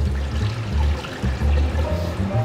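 Cooking water is poured off pre-boiled, cold-water-cooled potatoes, a close, fairly loud splashing and gurgling stream that surges and eases in waves before tapering to a trickle.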